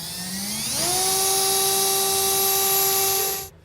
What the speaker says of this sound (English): we're going to drill through this